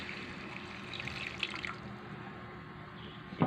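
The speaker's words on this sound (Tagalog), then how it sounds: "kaya dadagdagan natin siya ng tubig" Water runs steadily into a cooking pot for a simple Filipino paksiw, a continuous close splashing pour with no talk.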